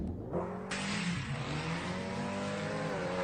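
Street race cars at a no-trailer drag race roar with a sustained loud engine note that swells after a short quieter start and holds steady, with no talking.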